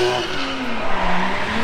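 A drift car at tandem practice, its engine holding a steady sliding tone while tires squeal, loud and continuous with the pitch dipping and rising through the slide.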